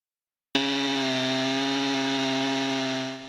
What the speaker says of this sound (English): The sounds of a chainsaw mean there is storm recovery progress.